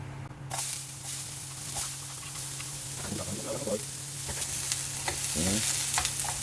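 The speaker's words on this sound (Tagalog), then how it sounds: "So, ngayon magsisimula na tayo mag-gisa. Lagay tayo ng onion." Onion dropped into a pan for chicken caldereta sautés with a steady close sizzle and hiss, spoon scrapes in between, and faint voices murmuring briefly in the background.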